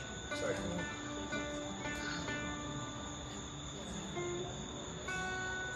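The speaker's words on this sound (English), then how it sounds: "It gives us a second to listen to the crickets." Outdoors at night, crickets keep up a steady, high-pitched chirping chorus with constant overlapping trills that continue through the whole stretch, with faint distant sounds beneath.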